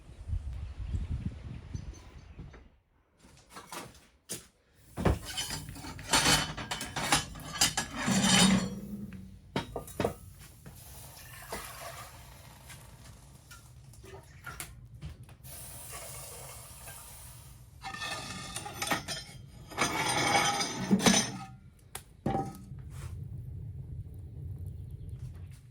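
Eggs cracked and whisked by hand for an omelet in a pan in a village kitchen, heard as a run of irregular clattering taps and rapid scraping bursts, fairly close, with quiet pauses between spells and no talking.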